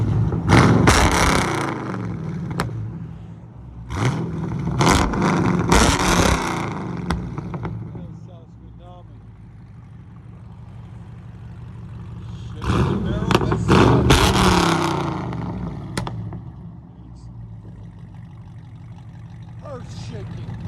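A car engine fitted with long tube headers revs hard in two loud roaring bursts, each rising and falling with crackling exhaust, separated by a quieter idle rumble, while a person talks.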